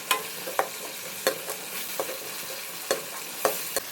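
A spoon stirs ginger tamarind pickle frying in a pan for a Kerala-style inji puli, giving soft scraping strokes every half second or so over a steady sizzle, close and without talk.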